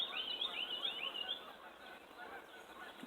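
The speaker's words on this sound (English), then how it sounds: "Listen to them geese." A flock of geese honks and chatters at a distance, the calls fairly faint over a steady outdoor background.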